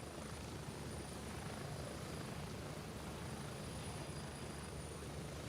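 A helicopter in the video game Gray Zone Warfare gives a quiet, steady rotor-and-engine drone that holds level throughout, with no speech.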